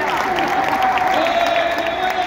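A stadium crowd of Japan national team football fans cheers and applauds as the players line up before a Japan vs Bahrain 2026 World Cup Asian qualifier, a steady, dense roar filling the space with a faint tonal voice running through it.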